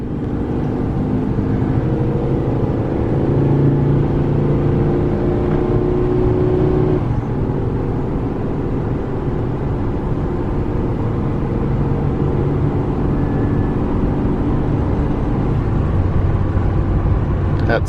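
A 2016 Ford F550 tow truck with a Jerr-dan MPL40 bed pulls onto a highway. Its engine and road noise hold at a steady, loud level from inside the cab, with no talk.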